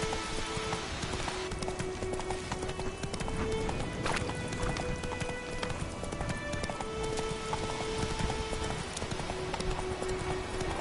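A horse gallops in The Witcher video game, with quick rhythmic hoofbeats running steadily throughout, close and moderately loud, mixed with faint ambient game sounds.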